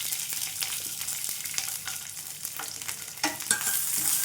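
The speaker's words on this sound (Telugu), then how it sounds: "కట్ చేసుకొని ఇవి కూడా వేయించుకుందాం." Sliced green chillies fry in a pan over a medium flame for tamarind chutney, giving a steady close sizzle broken by occasional stirring scrapes and clicks, with no talking.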